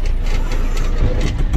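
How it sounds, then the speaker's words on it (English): A Caterpillar 426 runs close by at a steady idle, its engine a loud, continuous low rumble and clatter with no pauses and no voices. "Caterpillar engine hoist, whatever you wanna call it. Fired right up."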